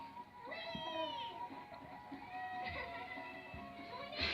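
A new kitten meows several times, close by, with rising and falling cries spread through the moment while it is teased by a baby at home.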